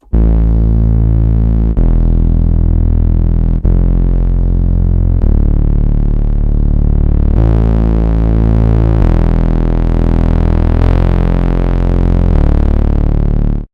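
A warm, saturated, sustained melodic techno synth bass preset called Bass Rights, modeled on a track, plays a loud, continuous line of held notes that shift pitch every couple of seconds, with no voices.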